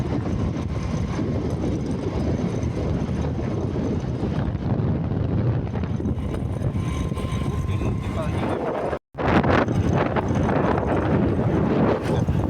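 A motorbike rolls over a rumble-strip speed breaker, its steady engine rumble broken by rapid rhythmic juddering, with a brief dropout near the end.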